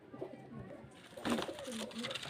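Pigeons at a pigeon seller's home in Beldanga, Murshidabad, give soft cooing calls, moderately close and mixed with background noise, with a louder burst partway through.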